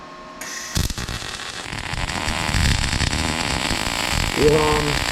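A MIG welding gun lays a bead, giving a continuous close crackling hiss with a steady electrical hum under it.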